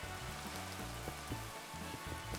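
Steady rain patters evenly in the video game Supersymmetry, a constant moderate hiss of drops with no voice over it.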